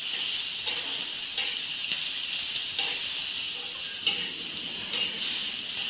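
Garlic and a piece of ginger sauté with tomatoes in a hot pan for an egg curry, producing a loud, continuous close hiss of sizzling oil with faint stirring ticks.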